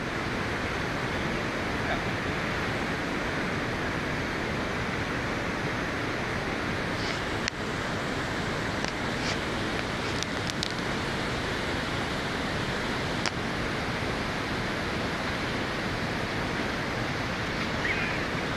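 Steady, loud rushing water fills the whole stretch, a dense broadband roar with a few faint clicks and knocks on top.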